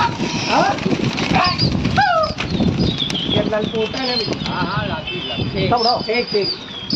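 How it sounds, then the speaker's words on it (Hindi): Domestic pigeons released by a hobby keeper in Lucknow, with steady wing flapping and scattered coos and chirps throughout, loud and close, with someone talking over it. "इससे उड़ा दिया गया कबूतरों को दोस्तों।"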